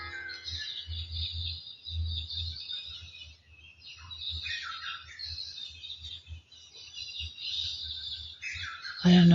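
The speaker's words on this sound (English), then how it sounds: "I don't know if you can hear the birds, but they're going crazy right now." Birds chirp and tweet busily outdoors in the morning, a steady layer of overlapping calls that continues throughout, with a low hum underneath and a sudden loud thump at the very end.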